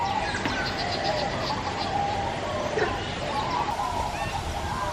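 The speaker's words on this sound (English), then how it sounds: "But listen to the birds." Birds calling inside a large indoor aviary at Jurong Bird Park, Singapore, steady chirps and trills over a constant wash of running water and distant crowd chatter, with voices talking nearby.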